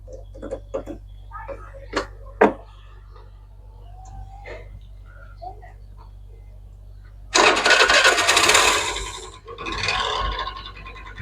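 People talk briefly with a few clicks and knocks, then a scooter fitted with a Bullet motorcycle engine starts and runs loudly with a rough, rattling chug nearby.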